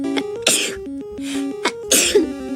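A voice gives a couple of quick, sharp sneezes in close succession, loud and near, amid short vocal sounds with no clear speech.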